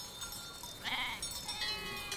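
Sheep in a mountain summer pasture, a few faint distant bleats rising over soft outdoor ambience, no voices.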